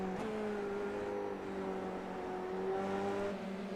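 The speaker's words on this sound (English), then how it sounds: "Big pack of cars all trying to chase him down." Several Formula 3 race cars in a racing video game whine past at Silverstone with rising and falling engine tones, a steady layered drone at low volume.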